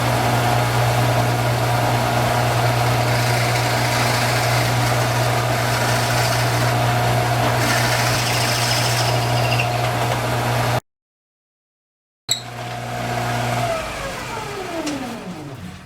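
A Shopsmith woodworking machine running continuously with a loud steady motor drone and strong hum, cut off by a short gap of silence before restarting and winding down with a falling pitch.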